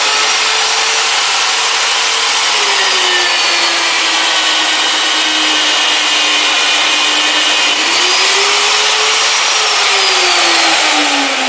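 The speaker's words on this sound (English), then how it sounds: "simply turn it on, and let's go ahead and drill it." A loud, continuous grinding whine of an Alfra SP magnetic drill biting into 6-inch 2x2 steel tube, pitch dipping and rising slightly as it cuts, with no talking.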